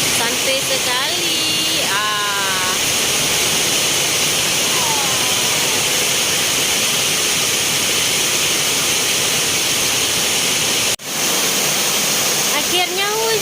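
Heavy rain pours down in a flood in Malaysia, making a constant loud broadband rush like a waterfall, with people talking and shouting throughout.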